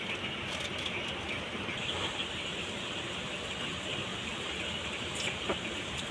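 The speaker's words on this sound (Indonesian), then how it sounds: "Dibarengi dengan hujan rintik-rintik dan gemuruh yang derdar." Steady, soft hiss of light rain falling continuously, with a faint bird call briefly near the end.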